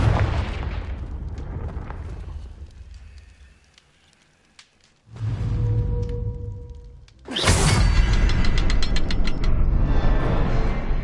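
A fiery blasting curse goes off in a Harry Potter game, with a loud burst at about five seconds and another sharper, heavier explosion near seven seconds that rumbles on with crackling debris, after a quieter stretch of mechanical clatter.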